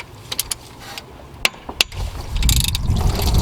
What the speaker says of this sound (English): grab a 14mm and loosen that bolt up